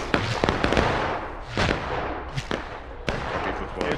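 Ragged musket volleys crack out across a Civil War battlefield in War of Rights, several sharp overlapping reports in quick succession with smoky rumble between them, loud and close with more distant shots trailing off.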